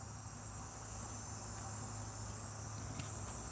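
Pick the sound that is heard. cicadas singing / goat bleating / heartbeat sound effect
cicadas singing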